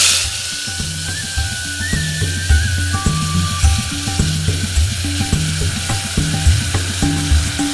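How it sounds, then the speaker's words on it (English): Tomato puree sizzles and fries steadily in hot oil over a low flame in a home kitchen, with a loud, close, continuous crackle and occasional stirring scrapes, and no voices. "We fry the tomato puree, tomato paste, whatever"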